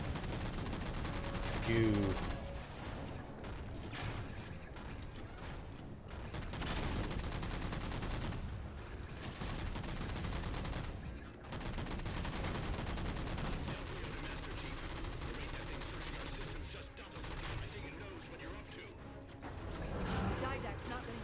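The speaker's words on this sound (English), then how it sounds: "Who the fuck's shooting at me?" Gunfire in the video game Halo 4 comes as repeated bursts of automatic shots and impacts over a busy, dense battle din, with a voice speaking briefly over it.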